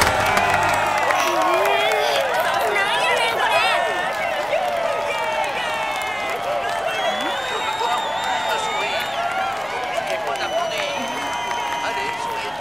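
A crowd claps and cheers in the ending cutscene of Tekken Tag Tournament 2, steady dense applause with whoops running throughout while a voice speaks over it.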